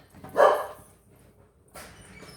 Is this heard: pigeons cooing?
no